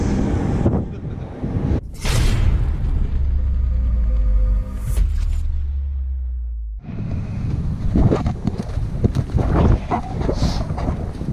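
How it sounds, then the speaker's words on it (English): Gusty wind buffeting a microphone on a roof under construction, loud rumbling roars that rise and drop, with a brief lull before the blowing resumes. "So you can see, it's getting windy."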